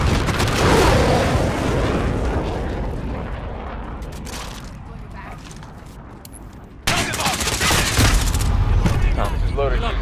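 Heavy rumbling blasts from an airstrike in Modern Warfare 2019, a dense volley of booms that fades before a sudden loud burst of renewed explosions.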